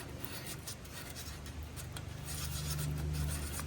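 Small sandpaper rubbed on a metal grounding point during an under-bonnet charger install on a Toyota LandCruiser 300 series, a faint rapid back-and-forth rasping that grows slightly louder toward the end, no speech.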